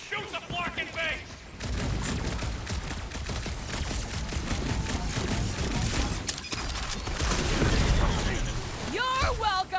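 Gunfire rattles through a Guardians of the Galaxy video game in sustained rapid bursts and pops, loud and continuous, with character voices talking over the shooting.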